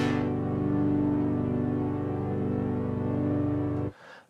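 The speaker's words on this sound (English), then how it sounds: "I added a flanger to give it that movement." Synth chord run through a flanger for movement and width, programmed to back doubled rhythm guitars. A single loud sustained chord holds for about four seconds with a sweeping, swirling shimmer, then cuts off abruptly.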